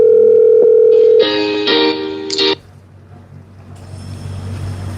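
A steady telephone tone drones loudly after a caller hangs up. Shorter higher beeping tones follow, then the line drops to a faint hiss.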